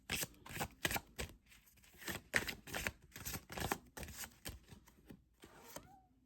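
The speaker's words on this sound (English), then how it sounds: "Let's pull a couple final cards to close out this reading." Tarot cards are shuffled by hand close up, a rapid series of crisp riffling bursts and soft slaps repeating in quick rhythm, fairly quiet and without speech.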